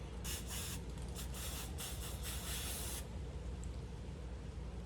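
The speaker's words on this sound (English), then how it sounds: "So I'm gonna spray it on there, and should be a spray." Red filter oil is sprayed onto a car air filter from an aerosol can in several short, sharp hissing bursts over the first few seconds. A quiet, even background hiss continues after the spraying stops.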